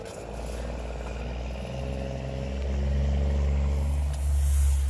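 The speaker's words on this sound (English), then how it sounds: "And again, there goes the truck." A Freightliner Coronado grain truck pulls away from a farm grain bin, its diesel engine rumbling loud and close, then swelling as it moves off under a steady low drone.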